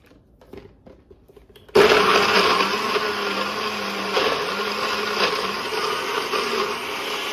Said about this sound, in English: we're going to put the lid on our NutriBullet